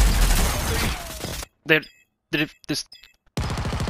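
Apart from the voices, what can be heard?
gunshots in a video game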